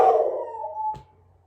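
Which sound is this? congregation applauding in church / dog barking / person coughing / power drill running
dog barking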